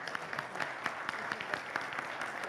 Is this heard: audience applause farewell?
yes